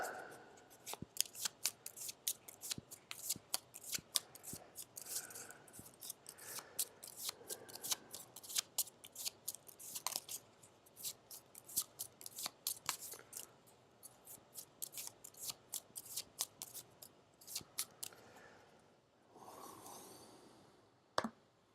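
A cultist card deck from the Gloomhaven board game is shuffled at length, with rapid riffling snaps and flicks of cards in close, quiet bursts and a soft rustle near the end.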